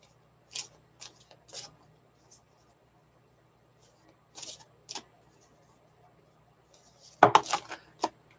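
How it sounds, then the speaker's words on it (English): Tarot cards being shuffled give a few soft, scattered flicks and taps, then a brief, louder riffling burst near the end, all faint and close against a quiet background. "Let me shuffle again"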